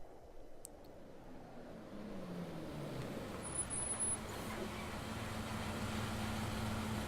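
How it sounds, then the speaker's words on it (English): A bus engine from the video game Everlasting Summer grows from quiet into a steady low rumble as the bus pulls over, holding at a moderate distance with a short hiss partway through. "The sound of an engine brought me back to reality. A bus pulled over."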